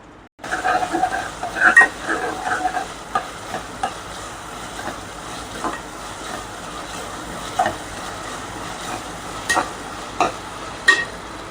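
Mint and coriander leaves cook in an oiled pan for a soya bean white palav, giving a steady low sizzle with stirring scrapes and a few brief louder clinks, close by, with no talking.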